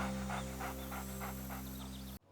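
A pet dog named Marco pants in quick, even bursts close by, quiet over a steady low background hum, stopping abruptly at the end.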